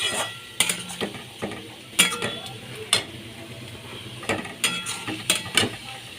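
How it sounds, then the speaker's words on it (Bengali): Potatoes fried with spice paste for aloo dum are stirred in a pan, with sharp repeated spatula clanks and scrapes over a low background sizzle, close and fairly loud. "বাটা দিয়ে ভালো করে কষিয়ে নিচ্ছি"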